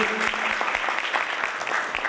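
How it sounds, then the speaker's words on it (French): An audience at a World Quality Day event applauds with steady, dense clapping that continues throughout, with a few sharp individual claps standing out from the crowd. "Merci, on applaudit."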